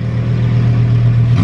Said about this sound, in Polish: Poprosiłem jeszcze o dwie skromne przygazówki.